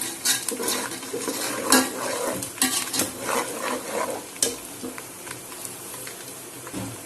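Onions sizzling and browning in a pan while being stirred, with frequent scraping and clinks of a utensil against the metal, close and busy throughout, no talk.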